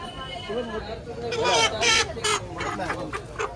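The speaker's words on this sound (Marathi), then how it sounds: "एकदम प्युअर गावठी कोंबडी" A country hen clucks several times close up, with rough, agitated calls, mixed with voices talking nearby at a busy weekly village market in Oros.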